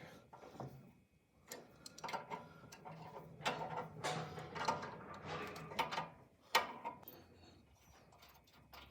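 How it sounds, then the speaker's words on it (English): Metal bolts are worked loose from the conveyor assembly of an Elite Series dough sheeter, with a series of close, sharp clicks, ticks and light metallic knocks coming in irregular bursts, fairly quiet, with no talk. "You just gotta remove these 4 bolts here."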